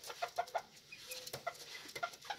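Serama bantam chickens, the world's smallest hen breed, a small family flock, give quiet, short clucks in a brief series of soft calls, fairly close and fairly faint.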